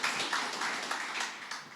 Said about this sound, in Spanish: Un aplauso para Ana, por favor.